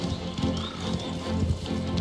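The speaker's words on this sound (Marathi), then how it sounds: "आपण थोडी पळवून घेऊ घोड्याला" A horse gallops in the video game Mafia The Old Country, its hoofbeats and hooves thudding in a steady, continuous run at moderate loudness, without talk.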